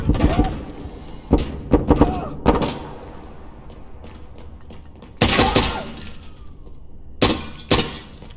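Flashbang grenade thrown in Insurgency Sandstorm, heard as a series of sharp, loud impacts and bursts with clanging and shattering textures amid gameplay noise.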